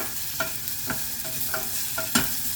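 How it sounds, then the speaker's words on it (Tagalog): Chicken wings cooking in a pot for chicken tinola, with a steady soft sizzle and a few sharp clinks of a utensil stirring against the pot at irregular intervals, close and moderately quiet. "lagay na din po natin yung ating chicken wings"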